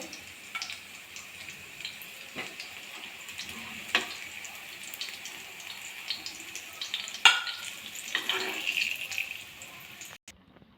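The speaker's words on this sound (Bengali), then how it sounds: "বাকিগুলো আমি একইভাবে ভেজে নেব" Bread pakoras shallow-fry in a little oil, with a quiet, steady crackling sizzle and occasional ticks and scrapes of a utensil nearby, no talking.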